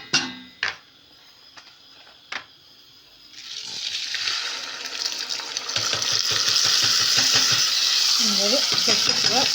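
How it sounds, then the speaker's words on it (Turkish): Uncooked rice poured into a pan of toasted vermicelli: a few sharp clinks, then a rising, steady sizzle with stirring and scraping close by. "Şehriyelerim kavruldu arkadaşlar. Pirincini veriyorum."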